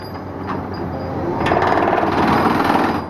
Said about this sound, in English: Here comes the compactor. Mashing down the sand and the dirt and the gravel.